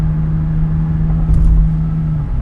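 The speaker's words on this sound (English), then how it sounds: "this is cold air intake plus the TRD Pro exhaust" A Toyota 4Runner TRD Pro with cold air intake and TRD Pro exhaust: a steady low engine drone with a constant hum, rumbling under a brief swell midway, like a vehicle cruising at moderate speed.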